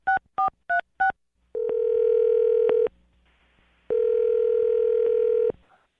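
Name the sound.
telephone call ringing for radio show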